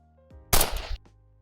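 A single sharp gunshot from a newly picked-up gun in the game Zimension rings out alone, loud and close, with a short tail before a faint later tick.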